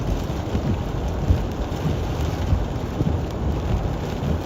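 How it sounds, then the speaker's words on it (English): Steady heavy rain from a South Dakota thunderstorm pours down with a constant roar, low rumbling beneath it and gusting wind of 40 to 50 miles per hour, no voices. "There is probably 40 to 50 mile an hour gusts, I would say, with this storm."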